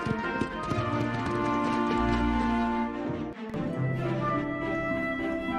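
Clip-clop of a donkey's hooves as Jesus rides into Jerusalem, a steady run of light hoof taps over a backdrop of sustained tonal music, with no voices.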